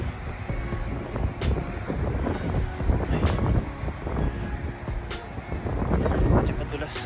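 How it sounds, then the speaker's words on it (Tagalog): Wind gusting outdoors during snowfall beside a muddy, slushy road, a steady broadband rush with buffeting on the microphone while a person talks over it throughout. "Mahangin."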